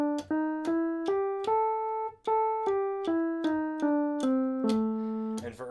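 On a keyboard, an A blues scale is played up and back down as a run of about a dozen clean, evenly spaced notes, clear and alone.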